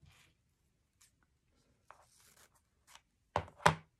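Scissors trim excess tulle fabric on a handmade rainbow Christmas angel ornament. Faint scattered snips lead up to two sharper, louder cuts near the end in an otherwise quiet room.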